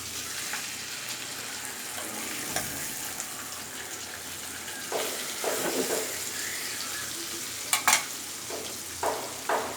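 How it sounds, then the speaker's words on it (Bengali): Tilapia fish frying in hot oil in a home kitchen, Bengali style, as the pieces are turned over: a steady close sizzle, broken by a few sharper clinks and scrapes near the end. "মাছগুলো এখন আমি উল্টে দিচ্ছি।"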